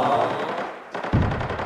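Rapid automatic fire from a Bizon submachine gun in an online multiplayer shooter, loud bursts of closely spaced shots with a short pause between two volleys.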